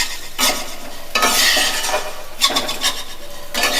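Masoor dal fries with coriander and cumin powder in a pan, loud scraping stirs coming in bursts over a soft sizzle, close and without any talk.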